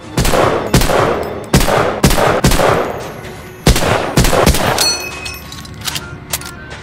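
Gunfire from the World War II shooter Medal of Honor Allied Assault: a string of loud, sharp rifle and gun blasts in uneven bursts, followed by quieter scattered shots and rumbling in the background.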